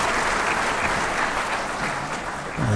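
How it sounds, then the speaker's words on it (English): Dense, loud audience applause at a formal academic launch event, welcoming a keynote speaker, a continuous close wash of clapping with no talk over it. "do join me in giving a very warm round of applause"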